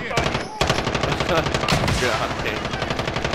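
Sustained MG34 machine gun fire in the Warzone video game, a dense rapid stream of shots with a brief break early on, loud and close, with a player's voice muttering over it.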